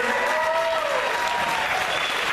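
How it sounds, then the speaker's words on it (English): A crowd in a school gym at a boys' basketball game applauds and cheers steadily for the home team's starting lineup, a dense wash of clapping with a voice carrying over it. "Please stand up and just cheer on your Meadville Eagles starting lineup number one, which is Ben Shaker."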